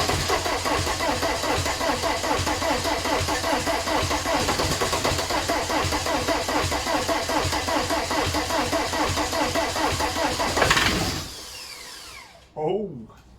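VW TDI diesel engine running loud and steady on a garage floor, uninstalled, with a rough rhythmic clatter for about eleven seconds before it cuts off abruptly, then a brief voice near the end.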